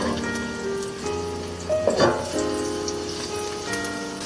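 Two pieces of garlic sizzle in extra virgin olive oil with a constant, close crackle, briefly swelling midway, while faint tonal music hums underneath.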